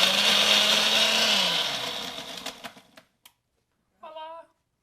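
A kitchen blender runs loud and steady on fruit for about two and a half seconds, then winds down through a few rattling bursts before going quiet; a brief voice follows near the end.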